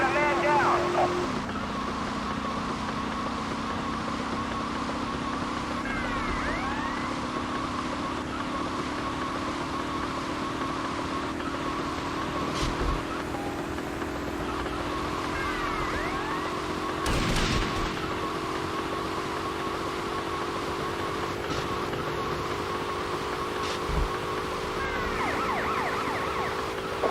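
Police car and ambulance sirens in GTA Vice City wail in long, steady rising tones under scattered game noise, with sharp bangs cutting through now and then.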